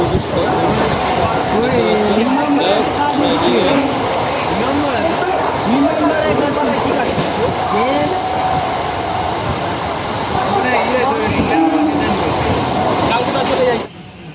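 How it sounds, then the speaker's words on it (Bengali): Godda MEMU local train from Sealdah running at around 75 km/h, a loud, steady broadband rumble and rattle with rhythmic wheel clatter throughout, and voices talking over it. "এখন কিন্তু পঁচাত্তর ছিয়াত্তর স্পিডে কিন্তু আমাদের লোকাল ট্রেনটা চলছে"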